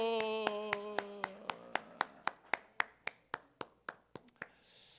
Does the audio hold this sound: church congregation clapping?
yes